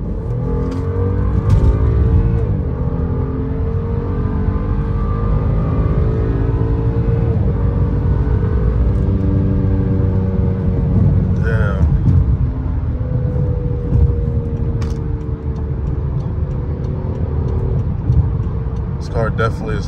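A BMW F10 535i engine revs hard and pulls in sport mode, its deep note rising steadily as it accelerates, loud and close throughout.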